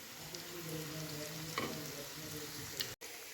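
Chicken pakoras, spicy boneless pieces, frying in oil over a medium gas flame, giving a steady close sizzle with a few soft stirring knocks throughout.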